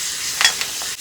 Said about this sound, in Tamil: வெங்காயம் கொஞ்சம் எண்ணெயிலேயே நல்லா வேகட்டுங்க.